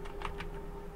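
Keys tapped on a computer keyboard while a folder name is typed, a few quick light clicks in a short burst, close and fairly quiet over a steady background hum.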